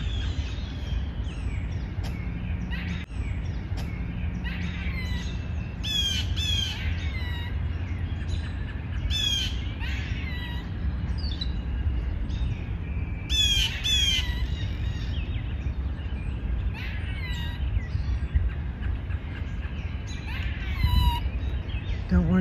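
Blue jays squawk and call repeatedly from nearby woods by a wood pile, harsh bursts scattered over steady low outdoor rumble, with no talking.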